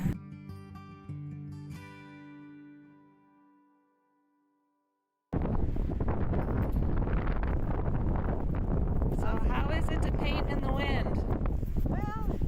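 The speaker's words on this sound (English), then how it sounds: "The wind is the biggest challenge you have." Wind gusting hard into a microphone outdoors in a mountain valley, a loud continuous roaring buffet that bursts in after a few seconds of quieter sound.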